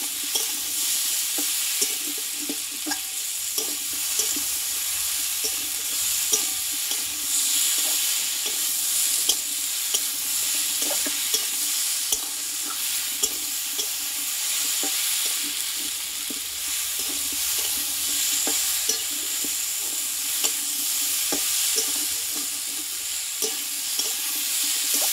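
Ginger paste and spices sauté in a hot pan for a vegetarian potato and papaya curry, giving a steady close sizzle with frequent spoon scrapes and stirring taps and no talking.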